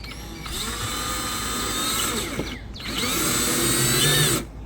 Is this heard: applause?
no